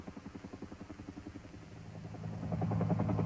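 An Air Force Huey helicopter with a fast rhythmic rotor thump that swells into a louder, denser engine and rotor roar as it nears.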